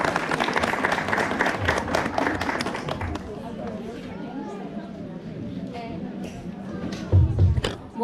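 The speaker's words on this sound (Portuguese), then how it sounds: "Muitas palmas." Lecture audience clapping for a speaker arriving at a talk on autism and ADHD, a few seconds of steady applause that thins out, with murmured chatter and a thump near the end.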